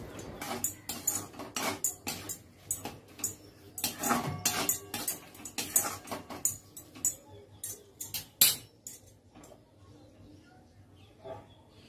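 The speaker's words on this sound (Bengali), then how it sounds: "আবারও সব কিছু ভালো করে মিশিয়ে নিচ্ছি।" Pasta being stirred in a pan with a splash of soy sauce and vinegar, a run of close clicking and scraping taps from a utensil against the pan, fading toward the end.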